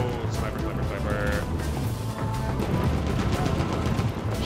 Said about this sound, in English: Fuck you, machine gun.